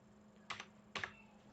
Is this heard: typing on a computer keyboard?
yes